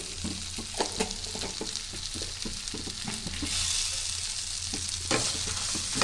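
Cumin seeds sizzle and crackle steadily in hot oil for a quick breakfast chutney, a dense close frying hiss with scattered pops, swelling brighter midway before settling, no talking.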